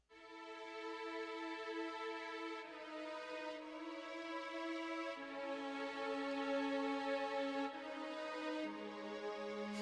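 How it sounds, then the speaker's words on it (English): O Strings Slow preset from Essential Strings in FL Studio's Flex plugin, smooth sustained string chords that swell slowly and shift every couple of seconds, clean and alone with no voices. "the Essential Strings, and it's called O Strings Slow"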